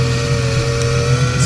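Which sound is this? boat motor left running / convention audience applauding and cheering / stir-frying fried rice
boat motor left running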